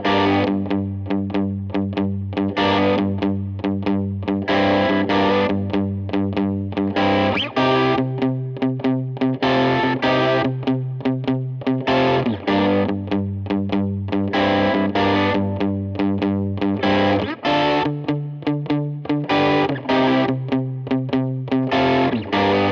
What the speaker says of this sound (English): All these tones were created using the Gristlemaster running into the Line 6 Helix.